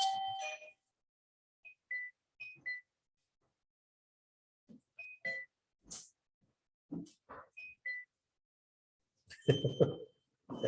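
A doorbell chimes a few times in scattered, fairly quiet ding tones with silent gaps between, and some brief voice sounds near the end.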